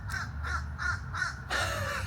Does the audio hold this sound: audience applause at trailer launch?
no